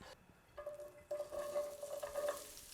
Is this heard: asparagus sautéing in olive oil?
yes